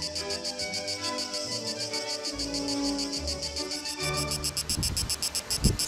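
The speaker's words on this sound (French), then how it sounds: "la cigale se mettait à chanter avec ses petites camarades" Cicadas sing in dense, steady pulsing trains close by on a hot summer day, the insect chorus rising and thickening toward the end with rustling underneath.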